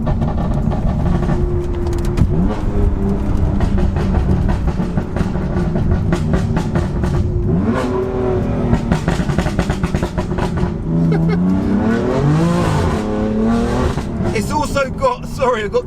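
A stage 2 tuned BMW M4 making 535 brake horsepower revs up repeatedly, its loud engine note rising and falling in throaty sweeps while a person talks over it.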